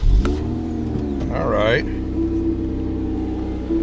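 Supercharged V6 in a Lotus Emira fitted with titanium exhaust finishers starts up, a short rising whine and surge settling into a steady low idle rumble, with brief talk from a person nearby.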